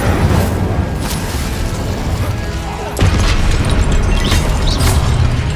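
An Incendio fire spell from Hogwarts Legacy goes off as a loud, dense burst of crackling, roaring noise, with a sharp renewed surge about halfway through.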